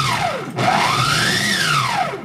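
A Vitamix blender base with a food processor attachment whirs loudly as it chops purple cabbage, its motor pitch rising and falling as chunks are pulled down into the blade.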